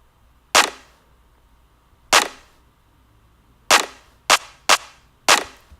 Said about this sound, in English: Up next is the snare, which is really just a clap and like a little top thing.